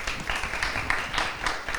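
Brief burst of audience applause in a round-table seminar hall, steady dense clapping filling the whole moment at moderate loudness with no talk over it.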